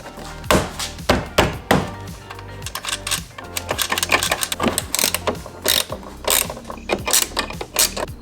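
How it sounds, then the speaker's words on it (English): A small ratchet wrench clicks in quick bursts while tightening the taillight bolts on a Tesla Model Y, loud close rattling pawl clicks with a few thunks of metal, no talk. "the small wrench, and tighten it up"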